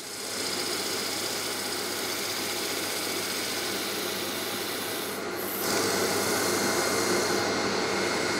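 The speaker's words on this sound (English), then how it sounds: "Time for some sanding." Continuous abrasive rubbing of 180-grit sandpaper on London plane wood, steady and close, growing slightly louder near the end without any pause.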